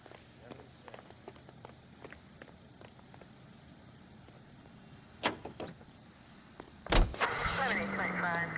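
Footsteps and clicks lead to a car door thudding shut, then an engine starts and settles into a steady rumble in a 1940s Los Angeles detective game, with speech around the sounds.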